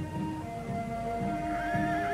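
Horses ridden by soldiers neigh and whinny over a low steady rumble, with a rising whinny near the end and hoof sounds mixed into the dense background.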